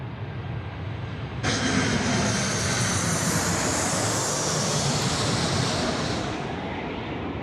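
A passenger jet on approach to Sydney Airport at night swells into a broad, loud roar that holds for several seconds before easing off slightly.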